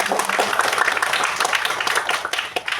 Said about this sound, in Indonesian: Boleh tepuk tangan sekali lagi untuk Naturali Plus.